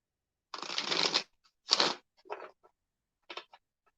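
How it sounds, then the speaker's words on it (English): Tarot cards being shuffled by hand during a relationship reading, a long riffling burst followed by several shorter bursts, close and clear with no talking. "I will shuffle these for you"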